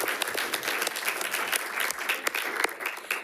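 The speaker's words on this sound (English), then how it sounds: "So if we can all clap for Wendy." Sustained audience applause at a school district board meeting honoring a staff member, many hands clapping densely and steadily throughout at moderate level with no speech over it.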